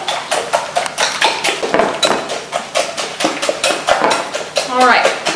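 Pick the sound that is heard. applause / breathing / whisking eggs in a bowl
whisking eggs in a bowl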